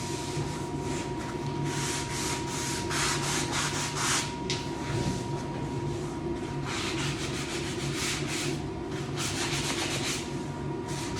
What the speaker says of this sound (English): And just sand those down a little more aggressively.